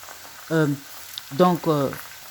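Potatoes and onions sizzle in hot oil for a Spanish potato tortilla, a steady low hiss running throughout beneath a few short bursts of talking.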